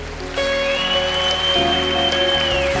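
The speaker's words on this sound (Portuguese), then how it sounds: "Aplauda ao Senhor." A congregation applauds during a church worship service, with steady, dense clapping that fills the room over sustained keyboard tones.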